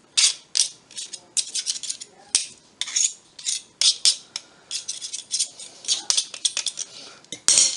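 Knife or pastry cutter working through dry ingredients for an apple crisp in a bowl being turned, giving a quick irregular series of close scraping clinks and taps with brief pauses between.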